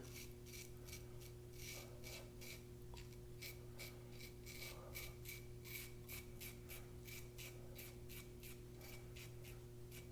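A hefty Dovo Primo straight razor scraping across stubbled skin in steady, rapid short strokes, a continuous rasping rhythm close to the mic with no speech.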